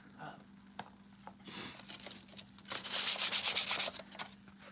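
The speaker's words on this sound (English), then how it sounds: "the higher the grit of the sandpaper, then the smoother it's basically going to get" Sandpaper rubbed against a Jedi Temple Guard helmet build, heard as soft scattered scrapes that swell into a run of quick, brisk rasping strokes near the end, close and moderately loud.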